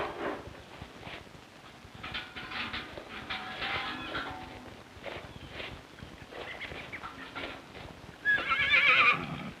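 Horses on a maple sugar farm whinny and snort while hooves clip-clop at a walking pace, with a louder, brighter neigh near the end over steady outdoor ambience.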